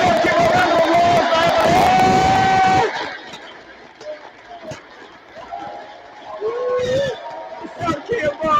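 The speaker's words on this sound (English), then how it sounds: "Let's give a round of applause" A live stage show audience applauds and cheers loudly for a newly introduced guest for about three seconds, then the noise drops away and scattered voices continue.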